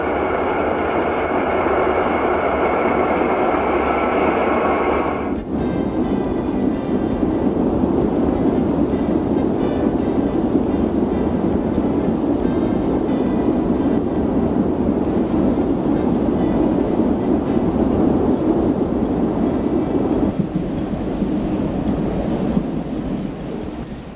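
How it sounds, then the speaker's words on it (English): Eastbound freight train pulling out and heading downhill off Soldier Summit, a steady loud rumble of rolling wheels and rail noise that carries on throughout, with a sharp shift in tone a few seconds in. "The eastbound freight gets the clear signal and pulls out, heading downhill off Soldier Summit."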